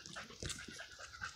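A family dog on a walk in a park pants softly in quick, breathy puffs, close by but quiet, with no other sounds.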